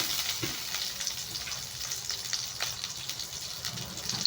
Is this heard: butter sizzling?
yes